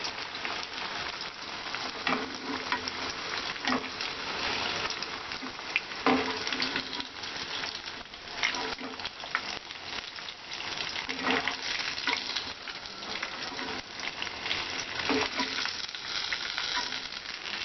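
Amritsari paneer tikka pieces deep-frying in oil, a dense, even bubbling sizzle that carries on steadily throughout at close range, with occasional light stirring noises.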